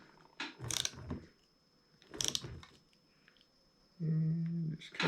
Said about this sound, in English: And just kind of snug it down.